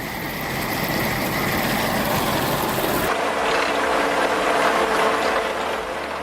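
Apple harvester working along orchard rows, sweeping fallen apples off the ground, a loud steady mechanical drone with rattling, clanking parts that shifts partway through to a brighter, hissing machine roar.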